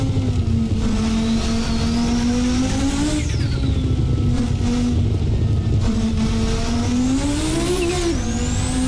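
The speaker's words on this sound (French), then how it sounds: "là on a le bruit du 5 cylindres" A steady, loud five-cylinder Audi S1 silhouette race car engine drone in Assetto Corsa, holding pitch, with two rising revs as it accelerates and shifts, no voices.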